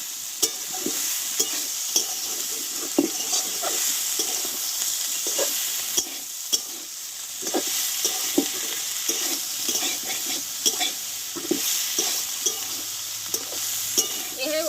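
Masala for a Bengali drumstick (sojne data) dish fries in a hot wok, a loud steady sizzle broken by repeated scraping stirs of a spatula, near and continuous throughout.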